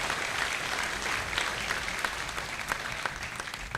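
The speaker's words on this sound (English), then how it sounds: "Get a round of applause if the fans were a good idea." Audience applause at a high school graduation ceremony, dense sustained clapping from a large crowd filling the room at an even level throughout.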